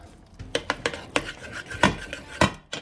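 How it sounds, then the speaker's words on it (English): Irregular scraping clinks of a utensil working guacamole into a paste in a bowl, a string of sharp knocks and scrapes close up with no talking. "So I'm stirring this almost into like a paste, basically."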